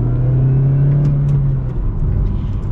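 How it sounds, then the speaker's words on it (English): A front-wheel-drive Chevy Cobalt SS accelerates from inside the cabin, its engine droning loud and steady with a clear rising tone, then shifting lower near the end. "We are going to be getting another acceleration here with our Cobalt SS."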